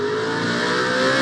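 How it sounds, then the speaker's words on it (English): Stock race car engine in a short-track cup series race, struggling to fire back up after a wreck, giving a loud, continuous, steady mechanical drone throughout with no talk. "having a hard time getting his car to start"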